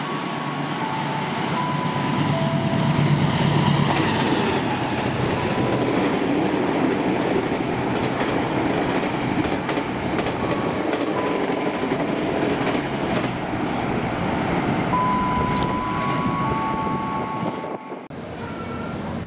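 Argo Anjasmoro passenger train run by PT KAI rushes past at speed, a loud continuous rumble with rhythmic wheel clatter and brief high tones. The roar stays strong throughout, then cuts off sharply near the end.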